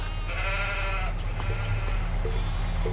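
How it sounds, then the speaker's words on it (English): Sheep bleating in a pen in the video game Farming Simulator: several harmonic bleats over a steady low background hum, with short calls continuing throughout. "So I now have a pen full of sheep."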